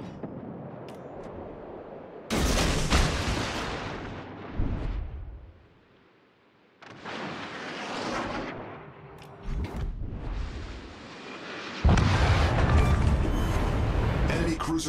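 Warship main guns booming in World of Warships: Legends aboard the destroyer Fubuki, heavy blasts in several loud bursts separated by brief lulls, with rumbling tails and a voiced game announcement in between.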